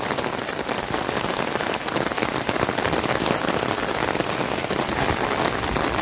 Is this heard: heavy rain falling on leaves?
yes